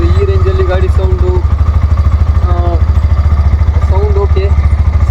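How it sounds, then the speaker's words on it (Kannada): A Hero Xtreme 125R motorcycle engine runs close and loud with a steady throbbing pulse while someone talks over it. "ನೋಡಿ ಬನ್ನಿ ಗಾಡಿ ಸೌಂಡ್ ನೋಡೋಣ"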